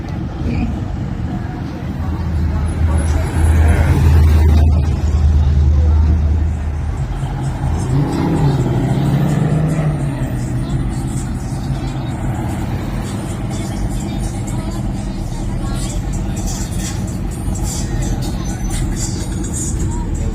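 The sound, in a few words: car engine revving at a car cruise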